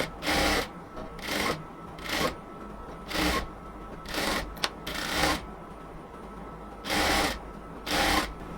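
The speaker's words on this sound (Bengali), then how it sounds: "এই পাশের কাপড় এই পাশে সেলাই করব, ওই পাশের কাপড় ওই পাশে সেলাই করব" A sewing machine stitching the sleeve fabric of a cotton kameez, running in about nine short bursts of rapid whirring stitches separated by brief pauses, close and fairly loud, with no talking.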